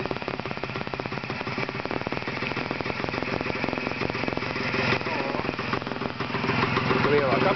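An engine is held at higher revs, a loud, steady, buzzing mechanical roar with a rapid pulsing rattle that continues without a break, close by, with a faint voice underneath.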